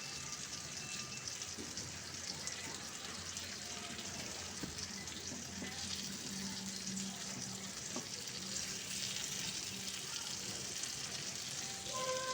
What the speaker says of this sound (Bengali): এটাকে আমি এর সঙ্গে খুব ভালো করে ভেজে নেব